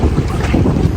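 A pumpboat (outrigger motor boat) running at sea off an island shore, its engine a steady low drone buried under heavy, constant wind buffeting the microphone for the whole second, no voices.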